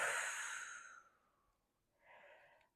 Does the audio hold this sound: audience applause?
no